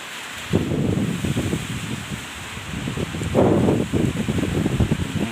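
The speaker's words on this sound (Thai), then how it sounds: "ลมแรงเกินนะครับ" Strong wind gusting during an approaching rainstorm, a loud continuous roaring rush with rustling surges that swell and fade near the microphone.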